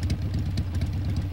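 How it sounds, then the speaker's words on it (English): A vehicle engine idles in Metal Gear Solid 3, a steady low rumble with a regular throbbing pulse that runs unbroken and fairly loud through the short moment. "Cut the engine."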